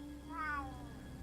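A cat meows once with a rising, drawn-out cry amid low background hum during a casual gaming livestream, fairly close and moderately loud, with a sharp noise at the very end.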